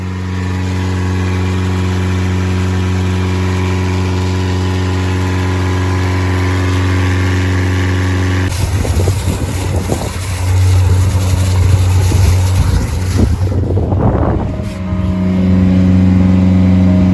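Yacht diesel engine, just back from a water pump repair, idling with a steady low hum, then revved up hard with a rough, surging roar before settling back to a steady idle, loud and close.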